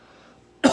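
A single sharp cough bursts out at the very end after a near-silent pause, loud and close, with a throaty, clearing edge.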